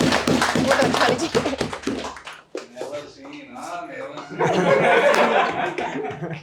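An audience claps and laughs at a talk on self-love, with a burst of rapid clapping at the start, then quieter chuckles and murmurs, and a second swell of laughter and applause near the end.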